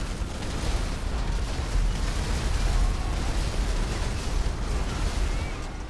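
Vehicles blown apart by a car-mounted cannon in GTA V on PC: a continuous, loud barrage of booming, rumbling blasts and crackling debris for the full stretch, with no talking.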